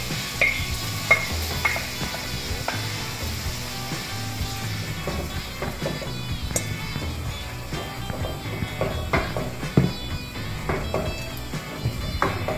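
Pork frying in a wok for igado, a steady loud sizzle with scraping and clattering of the utensil against the pan, continuous and close throughout.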